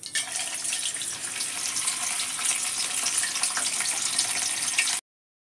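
Fish pieces fry in hot oil with a steady, bright hiss and crackle that holds evenly for about five seconds before cutting off to silence.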